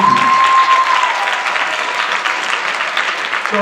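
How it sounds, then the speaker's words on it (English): A room full of people applauding at a talk about Africa and American hip hop, a loud close burst of clapping that stays steady and then eases a little, with a brief tone at the start. "Let's give them a round of applause."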